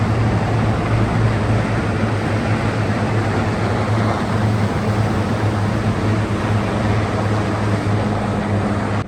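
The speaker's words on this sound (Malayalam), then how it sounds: "നമ്മൾ ഈ സൗണ്ട് കേൾക്കുന്നത് വലിയ ഹെലികോപ്റ്റർ വരുന്ന സൗണ്ടാണ് കേട്ടോ" A large helicopter approaches near a beach, its steady, loud rotor and engine drone holding low and even throughout with no break.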